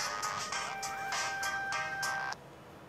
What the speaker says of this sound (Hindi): सिर्फ फोन रिंगिंग है।